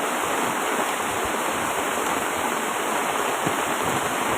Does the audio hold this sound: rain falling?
yes